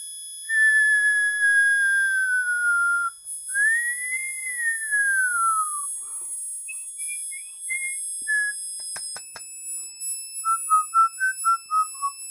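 Piercing high electronic tones from a piezo burglar alarm sound alone: two long sliding notes, then a series of short warbling beeps and chirps, with steady high whines underneath.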